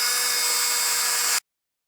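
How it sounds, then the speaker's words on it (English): A power driver runs screws into the case of a Husqvarna 372 chainsaw kit, a loud, steady whirring hiss that holds for over a second and then cuts off abruptly into silence. "Let me go run some of these screws in."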